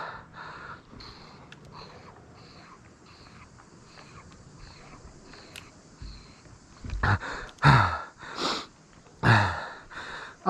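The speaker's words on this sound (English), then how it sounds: "Awkward breathing noises." Heavy, uneven breathing of a cyclist catching breath after riding a loop, quiet at first, then loud close gasps and sniffs in irregular bursts toward the end.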